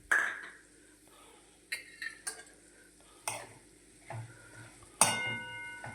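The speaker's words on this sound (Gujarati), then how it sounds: "કરી નાખો મિક્સ." A spoon scrapes and knocks against a pan while cauliflower curry seasoned with turmeric is stirred, coming as a series of separate metallic stirs and clinks with quiet pauses between them and a faint sizzle underneath.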